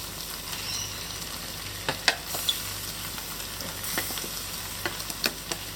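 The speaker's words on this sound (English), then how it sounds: "The last step is to add the zucchini noodles in the pan." Zucchini noodles frying in a pan with prawns, giving a steady soft sizzle with scattered sharp clicks and scrapes as they are stirred.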